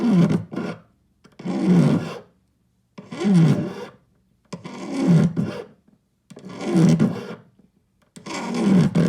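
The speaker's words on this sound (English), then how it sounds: "Filing corners can be a challenge the first few passes because the corner wants to hang in the file." A hand file rasps across a metal heart earring in repeated strokes of about a second each, separated by brief pauses, close and clear with no voices.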